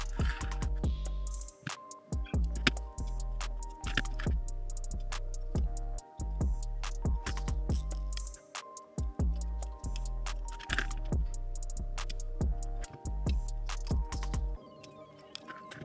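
Small metal split rings are worked onto a fishing lure with pliers, giving a steady run of close, sharp clicks and tinny metallic ticks alongside low handling bumps.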